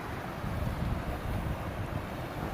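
A very large river flowing along a riverbank, a constant broad rushing roar with heavy low rumble, loud and unbroken, with no talk.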